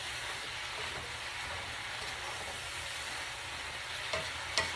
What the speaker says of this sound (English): So I'm getting that cabbage all sauteed.